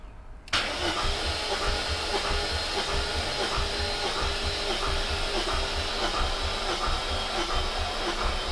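Supercharged BMW E39 M5 with S62 V8 engine cranking at wide open throttle for a compression test, a steady rhythmic starter churn with pulsing compression beats that runs continuously without the engine catching.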